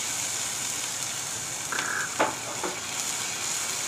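Green chillies sizzle and fry in a little hot oil in a frying pan, a steady soft hiss with a few light stirring clinks and scrapes, no voices.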